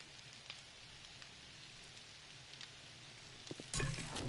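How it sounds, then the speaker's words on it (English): Steady rain patters on a surface inside a PS4 game, a continuous soft hiss with scattered drops and a slightly louder burst near the end. "Why does it sound like the rain is coming in through my house?"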